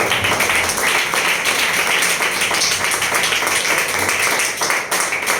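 Church congregation applauding their pastor's call, a dense, steady wash of clapping from many hands filling the room at a constant loud level throughout.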